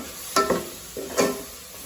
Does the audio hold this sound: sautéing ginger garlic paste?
yes